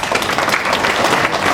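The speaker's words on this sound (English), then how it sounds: "Huge round of applause." Audience applause after a talk at a business school, a dense, loud wash of clapping hands filling the room, with a faint voice underneath.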